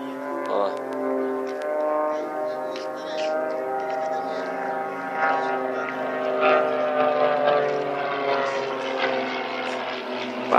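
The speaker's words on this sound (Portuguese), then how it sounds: "Não é todo dia que tem avião assim, não." A propeller airplane flies overhead at an air show with a steady, loud droning engine hum and a buzzing harmonic whine that swells and fades slightly, with the voices of nearby spectators.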